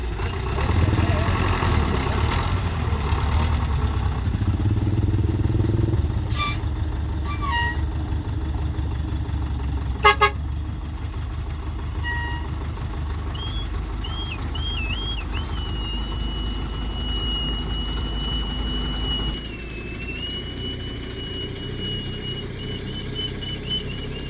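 Motorbike engine running steadily in a low, continuous drone throughout, with a brief clatter partway and faint whistle-like tones later; people talk over it at times.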